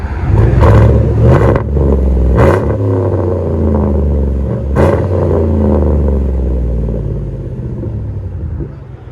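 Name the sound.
2015 Chevy Tahoe 5.3L V8 exhaust revving with muffler delete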